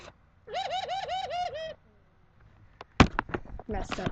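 A pet bird giving a run of rhythmic, laughing-like hooting calls, followed by a pause and then people talking up close.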